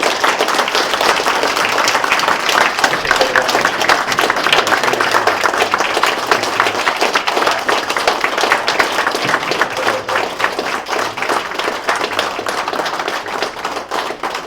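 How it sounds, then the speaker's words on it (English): Sustained applause fills a city Board of Aldermen meeting room, a dense, steady wash of many hands clapping for about fourteen seconds with no talking over it. "I'm going to give you a round of applause"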